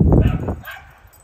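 A dog barks and yips a few times up close at the start, loud and quick, then the sound fades into quieter background noise.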